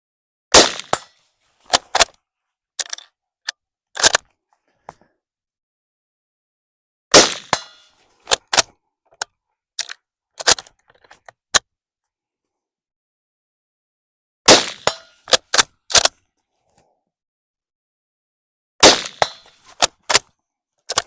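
Yugoslavian M48 bolt-action rifle firing outdoors, a series of sharp, loud, separate gunshots spaced several seconds apart, each cracking alone with brief echo and silence between.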